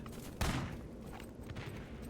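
Crossfire gunfire during a 6v6 ET: Legacy match on the Electra map, a sharp loud burst near the start followed by a continuous rattle of shots at moderate distance.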